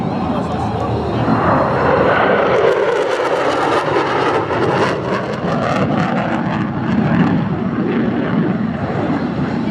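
A McDonnell Douglas Boeing F-15 with twin Pratt & Whitney F100 turbofans roars past at an airshow, a loud sustained jet rumble and rush that swells and shifts, with an announcer talking over it throughout.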